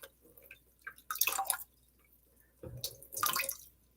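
Water drips and trickles from draining soaked seeds in two short bursts, close by, with quiet pauses between them.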